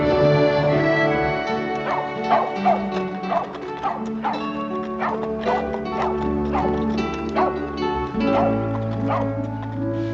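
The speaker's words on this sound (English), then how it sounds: "The dogs are barking the strange people's bark." Dogs barking in a 1960s Western TV episode, a steady run of yips and barks over a dense musical score, with a voice murmuring faintly underneath.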